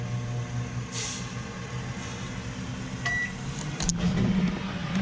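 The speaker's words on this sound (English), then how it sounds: "Microwave is on. 2 seconds, start." A microwave oven in a 2013 Camplite Livin' Lite 16TBS camper hums steadily after being started, with a few faint beeps and clicks over the drone.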